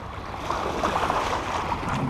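Large wake from a passing ship in a shipping channel washing against a small fishing raft, a steady surging rush of water with wind noise on the microphone, close and fairly loud.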